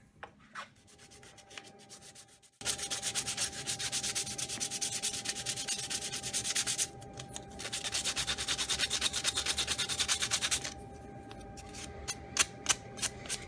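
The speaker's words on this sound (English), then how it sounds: "I'll just finish sanding these up" Small wooden dowels are sanded close up with quick, continuous scratchy friction in two long sustained bursts, each followed by short separate strokes, quiet with no talk.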